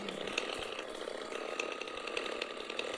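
A chainsaw in a video game drones continuously at moderate distance, a buzzing two-stroke whine with slight fluctuations throughout.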